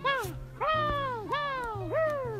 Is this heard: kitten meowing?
yes